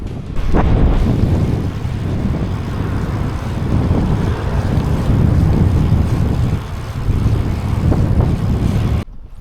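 Strong wind roars and buffets the microphone continuously on a cycling route near Beaugency, a dense low rumble with gusty swells and no voices.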